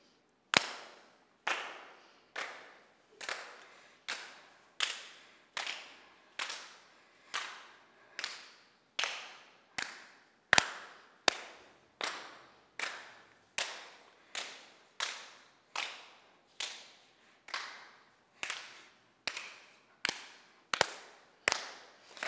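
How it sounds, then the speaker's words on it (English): A group doing a clapping exercise, each person passing single sharp hand claps along in turn, with about two dozen crisp, evenly spaced claps roughly one per second in an otherwise quiet room. "I'm gonna send the clap this way."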